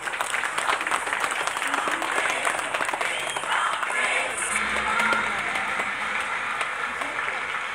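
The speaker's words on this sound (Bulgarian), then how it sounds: "Аплодисменти, Мълчугани!" Steady applause from an audience of parents at a kindergarten celebration for the 8th of March, a dense even patter of many hands, held at moderate loudness throughout with faint crowd murmur beneath.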